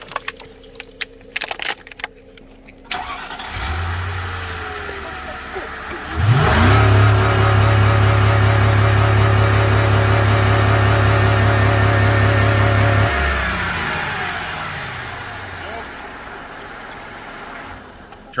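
A car engine idles, then surges into a loud, sustained rev for several seconds before easing back down, after a few clicks and knocks at the start; it is close and dominant, with no talking.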